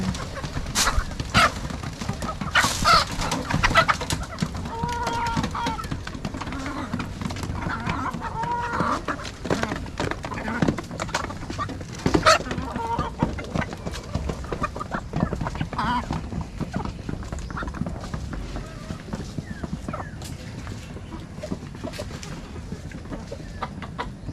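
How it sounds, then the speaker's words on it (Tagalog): Chickens cluck and squawk busily close by as they are fed, a steady flock chatter with occasional louder calls and some scuffling throughout. "sunudan na sa iyo itong mga manok"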